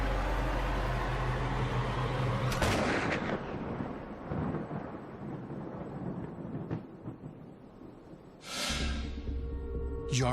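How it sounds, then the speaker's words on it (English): Rifle shot fired on an outdoor firing range in a recreation of the JFK head shot, two sharp loud cracks several seconds apart, each followed by a fading rumble, with quiet range ambience between. "Michael Yardley takes Lee Harvey Oswald's shot."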